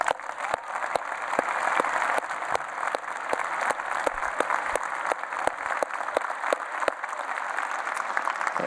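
A university commencement audience gives a warm round of applause, a long even wash of many hands clapping with a few sharp nearby claps standing out.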